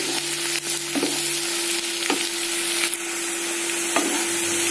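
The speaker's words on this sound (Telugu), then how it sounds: "ఇప్పుడు ఆనియన్స్ ఫ్రై అయిపోయాయి" Onions fry in a pan with a steady, loud sizzle throughout, close up, broken by a few soft utensil taps as they are stirred, no voices.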